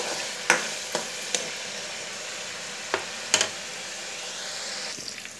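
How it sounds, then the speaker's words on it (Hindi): Chicken pieces sizzle steadily in a pan for Kachnar chicken, with a few sharp scrapes and knocks of a stirring spoon against the pan over the continuous frying hiss. "हमारा चिकन फ्राई होने के करीब है।"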